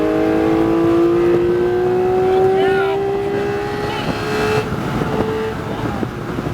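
A Porsche 718 Cayman GT4 RS accelerating on a race track, its engine note climbing steadily in a loud, close in-cabin drone with wind noise, while a voice speaks over it.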